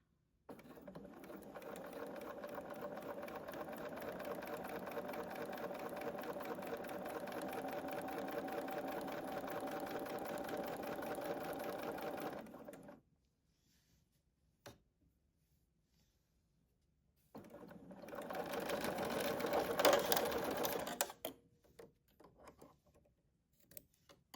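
A sewing machine stitches a small 3-inch quilt block with a 1/4 inch seam, running in a steady fast whir for about thirteen seconds, stopping briefly, then whirring again for a shorter burst.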